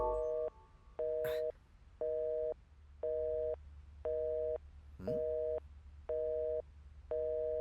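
Repeating busy-signal tone from a phone call that fails for lack of network, eight even beeps with steady pauses, fairly loud and close, over a low hum with brief faint noises.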